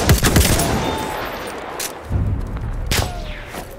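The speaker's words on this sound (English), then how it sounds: "Machine gun!" Bursts of machine gun fire and shots in a Battlefield 1 Conquest match, with loud broadband cracks near the start and again around two and three seconds, over a continuous battle rumble.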